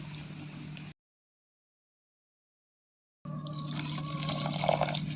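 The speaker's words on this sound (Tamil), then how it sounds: "நீ சட்டி வச்சு தண்ணி ஊற்றிக்கலாம்" Water pours steadily into a cooking pot on a stove in two stretches separated by a silent gap, for drumstick leaf soup, with a low hum underneath and the splashing growing slightly fuller toward the end.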